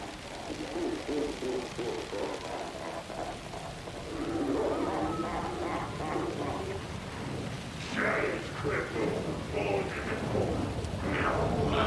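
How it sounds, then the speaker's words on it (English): Heavy rain in the horror video game Alan Wake 2, a steady loud wash that keeps swelling through the scene, with eerie game sounds rising over it toward the end. "the rain is coming down harder"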